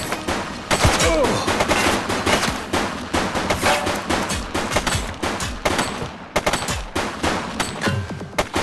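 Rapid bursts of gunfire from a woman shooting, loud and close, with dense repeated cracks across the whole stretch and brief gaps, under shouted voices.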